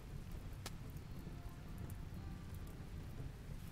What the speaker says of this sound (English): Hopefully this rain is actually rain and puts them out.